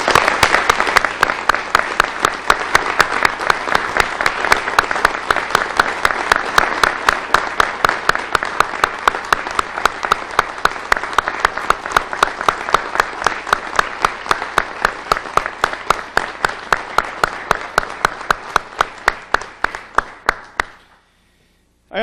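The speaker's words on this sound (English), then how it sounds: "I want us all to give them a round of applause for being here" An audience at a public safety event gives a round of applause. Loud, steady clapping carries on for about twenty seconds and then stops abruptly.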